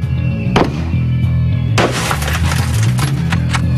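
A gunshot hits ONEWAY bullet-resistant glass built from resin-bonded acrylic and polycarbonate, already struck twice from each side. One sharp bang lands early, and a second, heavier burst of impact follows with a long crackling ring.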